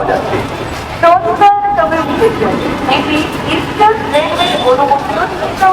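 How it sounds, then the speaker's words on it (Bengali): Busy Howrah railway station in Kolkata: a dense, continuous hubbub of crowd voices and moving traffic, with faint tonal horn-like toots rising now and then through the din. "চলে আসলাম হাওড়া স্টেশনে।"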